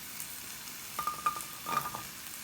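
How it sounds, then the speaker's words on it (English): Garlic frying in oil in a pan over medium heat gives a faint, steady sizzle with a few soft stirring scrapes and light clinks near the middle, close up and without talk. "let the garlic fry in the oil just a little bit"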